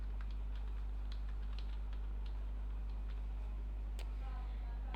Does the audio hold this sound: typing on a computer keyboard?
yes